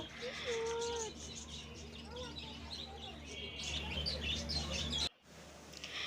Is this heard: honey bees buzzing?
no